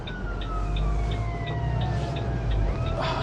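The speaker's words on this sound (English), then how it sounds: "one thing you hear a lot of is sirens, emergency services" Emergency vehicle sirens wail with repeated rising and falling sweeps in city traffic on Oxford Street, heard from inside a bus, steady over a heavy low engine and road rumble.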